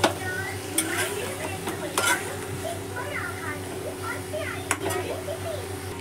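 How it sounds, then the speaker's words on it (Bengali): A spoon stirs a potato and pointed gourd curry with turmeric in a pan, scraping and clinking against metal in a few distinct knocks over a low sizzle, with a voice talking faintly underneath. "আর 1 চামচ হলুদ দিয়ে এটাকে আমি ভালো করে নেড়ে চেড়ে আবারও মিশিয়ে নেব।"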